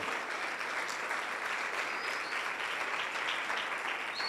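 A church congregation at a Sunday service claps in celebration of victory, a dense, even wash of applause heard at moderate distance without speech over it.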